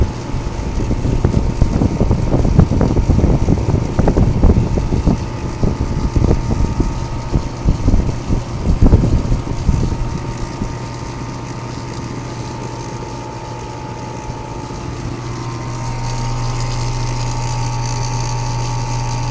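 A loud, rough mechanical rattle and clatter from a running, faulty reciprocating 410A air conditioner compressor from about 2010, which then drops to a steadier hum with a constant low drone.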